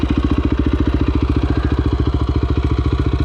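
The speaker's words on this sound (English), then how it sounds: "she's idling right around 1700 RPM." A 2011 KTM 450 EXC dirt bike engine idles at about 1700 RPM, a loud, close, rapid and even thumping pulse that holds steady throughout.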